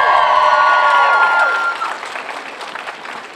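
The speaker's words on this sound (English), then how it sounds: "Give him a round of applause, he came from Calgary." Audience applauding at Lethbridge Pride Fest 2015, a loud burst of many hands mixed with cheering voices, peaking early and thinning into scattered claps over a few seconds.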